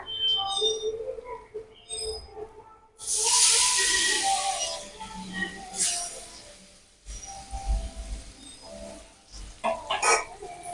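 Deuya fruit hits hot oil tempered with panch phoron for a chutney, bursting into a loud hissing sizzle that settles into crackling, with spatula stirs and clatter around it.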